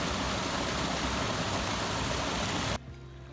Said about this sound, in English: And we have found a waterfall.